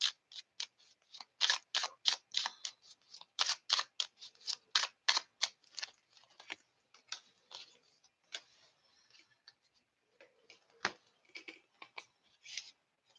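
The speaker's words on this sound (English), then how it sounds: "I just want to focus while I shuffle for Sagittarius to get some clarifiers" Tarot cards shuffled by hand in a quiet room, giving a run of crisp riffling snaps and flicks, dense and rapid at first, then sparser and irregular, close by with no voices.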